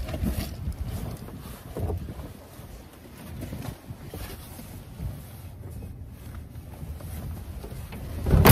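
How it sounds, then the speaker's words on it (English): Strong wind outside a vehicle on a cross-country drive through Tennessee, a continuous rumbling roar with gusts swelling and easing over the microphone, with no talk. "Hear that? Very windy out there."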